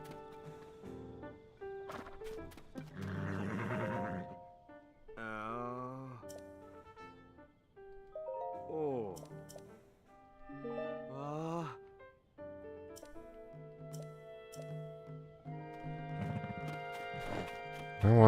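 Video game horse sounds: a series of loud, close neighs, whinnies and snorts come in separate bursts with short gaps between them, and a brief clatter follows at the very end.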